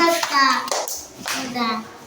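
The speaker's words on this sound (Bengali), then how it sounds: "আসমার জন্য সবাই একটা হাততালি দাও।" Second-grade schoolchildren clap for a classmate during a classroom word-building game, a short burst of hand claps mixed with children's voices and a teacher talking.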